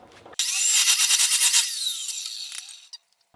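A power tool cuts a notch in the steel tube frame of a drift trike. It gives a loud, close, high-pitched grinding whine for about two seconds, wavering in pitch and then trailing off, with no speech.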